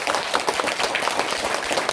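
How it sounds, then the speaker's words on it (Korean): Temple audience at a Buddha's Birthday sermon gives a short burst of steady applause, dense clapping filling the room for about two seconds with no talking over it. "동의하시면은 박수로"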